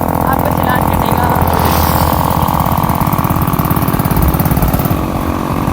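A motorcycle engine chugs steadily as an elderly grandfather rides the bike on the road, a loud, close, rhythmic putter running throughout, with people talking over it.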